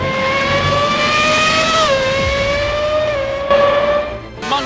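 Michael Schumacher's Ferrari Formula 1 car in the F1 2020 game screams round the Montreal circuit, a loud, close, high-pitched engine whine that holds steady, dips with a downshift, then climbs again, with a brief burst of extra noise near the end.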